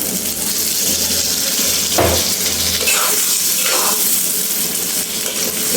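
Chicken liver hits hot, well-cooked spiced masala in a pan, sizzling and crackling steadily up close, with a few louder spits and stirring scrapes along the way.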